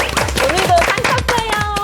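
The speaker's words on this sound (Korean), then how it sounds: "박수" People on a Korean discussion show clap for the winner of a quiz, a brisk, close patter of hand claps lasting a couple of seconds, with voices mixed in.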